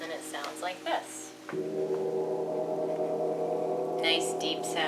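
An earth gong rings out with a deep, sustained, humming drone that swells after a short opening of other sound and holds steady, with faint higher tones entering near the end.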